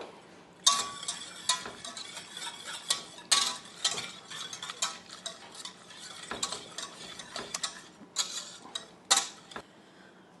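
Egg yolks being whisked with a couple of spoonfuls of water in a bowl, giving repeated clinking, scraping strokes of utensil against the bowl in an irregular rhythm, close and fairly clear with no talk.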